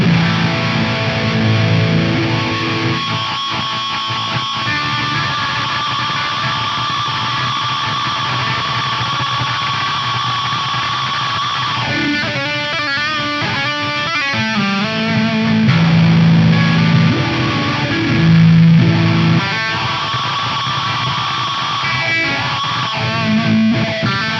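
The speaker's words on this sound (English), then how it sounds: "I can get an infinite reverb style effect" A Crazy Tube Circuits Splash reverb pedal set to an infinite, held reverb, swelling guitar notes into a loud, sustained wash that shifts and flutters midway with no talk.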